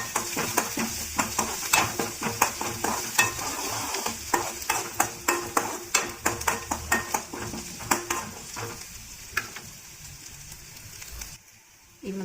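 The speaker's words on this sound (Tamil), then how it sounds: "இப்போ இதில் வெங்காயத்தை சேர்த்துக்கலாம் நல்லா வதக்கி விட்டுக்கலாம்" Onions sautéing in hot oil in a pan with mustard seeds and urad dal for a spinach chutney tempering: a close, continuous sizzle punctuated by regular sharp scrapes and clinks of a spoon stirring against the pan, quieting near the end.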